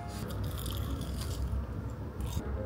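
Crunchy bites into a Jollibee peach mango pie, a day old, with dense close crackling and chewing sounds filling the short moment, no talking.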